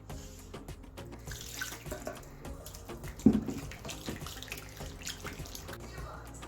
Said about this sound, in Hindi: दो कप पानी मैंने पहले डाल दिया था, आधा कप और डाल रही हूँ।